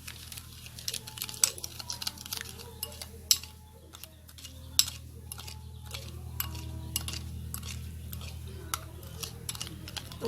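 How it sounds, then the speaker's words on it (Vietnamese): A spoon stirs sugar into a bowl of dipping sauce with minced garlic and chili for a lotus-root and pig-ear salad, making quick, light clinks and taps against the bowl over a quiet kitchen hum. "Các bạn sẽ quậy ra cho nó tan hết đường nha."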